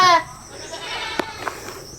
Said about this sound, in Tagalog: umiiyak yung kambing